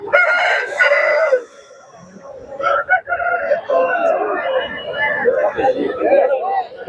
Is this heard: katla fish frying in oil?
no